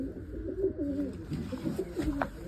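Pigeons near their wooden nesting box coo in soft, throaty, repeated rolling calls, close by and fairly clear, with a few overlapping coos toward the end.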